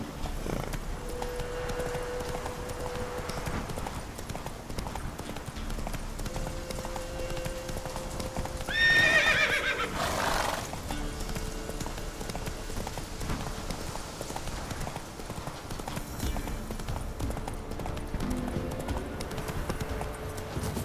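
Horse hooves clip-clopping at a steady gallop in the Witcher 3 video game, continuous and moderately loud, with a brief whinny-like burst in the middle and game ambience underneath; no clear neigh stands out.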